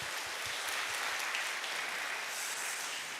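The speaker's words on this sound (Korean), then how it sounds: "우리 한번 그분들에게 감사의 박수 드리겠습니다." A church congregation at a Korean Sunday service applauds in thanks, steady dense clapping from many hands filling the room throughout.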